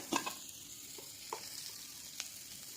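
Onions fry in a little oil with green chilies for a tomato egg bhurji, a faint steady sizzle broken by a few light scraping stirs.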